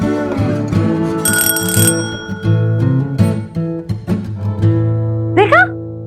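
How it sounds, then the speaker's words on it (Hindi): A doorbell rings indoors in a Hindi TV drama scene, heard as a bright repeating electronic chime over music, with a brief voice near the end. "देखा बज गई घंटी घंटी बज गई"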